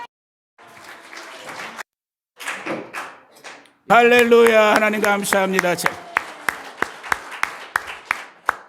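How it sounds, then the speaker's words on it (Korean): A Korean congregation at a church's 36th-anniversary thanksgiving service gives applause after spoken and shouted praise, heard as a run of sharp, evenly spaced claps, about eight in a row, close and distinct. "다시 한번 영광과 감사의 박수"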